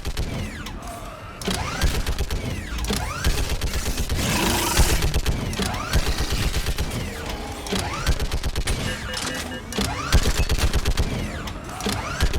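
Sustained gunfire and mechanical clatter from a battle in the video game Mass Effect 3 on Thessia, with dense rapid shots over a loud, busy mix, close and continuous throughout.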